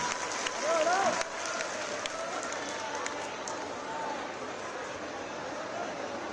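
An audience claps in a sustained, even wash of applause at a Jain community conference and foundation-stone ceremony at a university, with a voice speaking briefly over it at the start.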